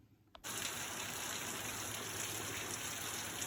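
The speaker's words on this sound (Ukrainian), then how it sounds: "А це чуєте, який дощ паде?" Steady, dense hiss of rain falling, starting abruptly after a brief quiet moment and continuing evenly throughout.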